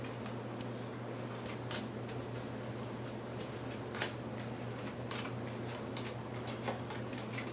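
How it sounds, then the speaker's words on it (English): Magnum Opus reagent cards being shuffled by hand, soft repeated riffling and paper flicks up close, quiet and steady with a few sharper snaps. "I'll take them, I'll shuffle them up"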